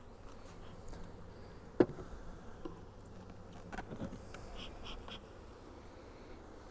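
Honeybees robbing a hive during a beekeeping hive combination in Kentucky, a steady low buzzing swarm hum throughout, with one sharp close knock and faint scattered sounds over it.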